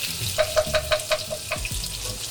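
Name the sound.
garlic frying in a pan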